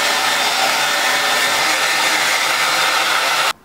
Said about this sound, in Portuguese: É só uma passagem assim de secador muito, muito rápida, em modo frio